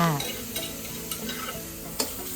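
Pounded chilli, garlic, lemongrass and shallots are dry-roasted in a hot pan, with steady light sizzling and crackle and a few scraping stirs from a utensil.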